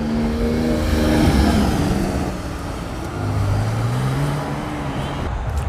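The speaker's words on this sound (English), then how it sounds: "I'll continue to just film as I see cars come through" Cars rolling into a Sunday car meet in a parking lot, engines humming steadily with a vehicle passing close by and gliding pitch shifts as they drive through, light background voices.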